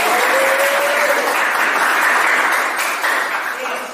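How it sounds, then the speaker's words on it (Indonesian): Classroom applause from students in a physics lesson, a steady loud wash of clapping that holds evenly throughout and fades slightly at the end. "Tepuk tangan untuk kita semuanya terlebih dahulu."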